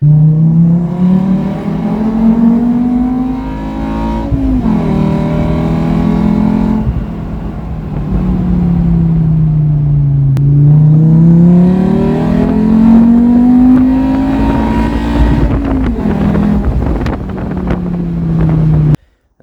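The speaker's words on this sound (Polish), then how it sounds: "wolnossąca 5-cylindrówka brzmi po prostu obłędnie" A naturally aspirated Volvo five-cylinder engine in a Toyota MR2 revs up and down repeatedly, its pitch rising and falling in smooth sweeps, loud and close with some wind rumble.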